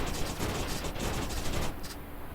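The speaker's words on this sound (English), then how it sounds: "Oh, that sounds kind of odd. Mixture of all the guns." A mixture of many guns firing at once on a Hawkeye tech in the Terra Tech building game: a continuous, rapid, overlapping rattle of shots at steady loudness, close and unbroken.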